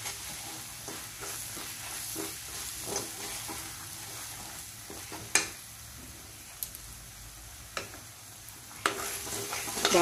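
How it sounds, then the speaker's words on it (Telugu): Bottle gourd sweet mixture with sugar being stirred in a pan, a steady low sizzle with soft scraping strokes and a few sharp spoon clinks against the pan, close and moderately quiet throughout. "బాగా కలపండి అరగంటకుండా"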